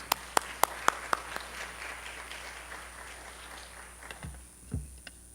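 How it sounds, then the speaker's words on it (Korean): A handful of sharp, evenly spaced claps ring out over a soft wash of congregation clapping in a large, reverberant church, then fade away. "우리 하나님께 영광의 박수 한번 올리겠습니다"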